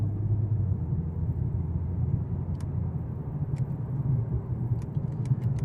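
A 2019 Mercedes CLS450 4Matic cruises at highway speed with a steady low engine and road rumble inside the cabin, faint and even, with a few soft ticks toward the end.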